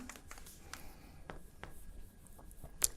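Short, faint strokes of a formula being written on a board, irregular scratchy taps close by with a brief sharper tick near the end and no talking.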